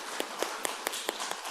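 A church congregation applauding in encouragement, a dense steady wash of many hands with a quick rhythmic beat of claps running through it, close and full.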